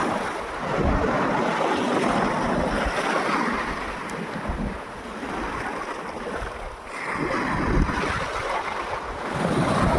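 Sea waves wash steadily onto the beach at Mousuni Island, a continuous rushing surf with gentle swells in loudness and some wind buffeting the microphone, with no voices.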